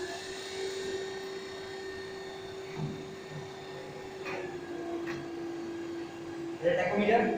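A DC shunt motor on a lab bench starts up and runs, giving a steady whining hum with a faint pitch shift midway, then a louder burst of noise near the end.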